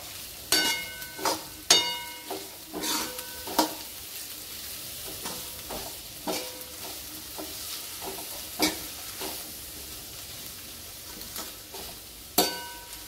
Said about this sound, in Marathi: आता हिला आपण थोडंसं तेलात परतून घ्यायची।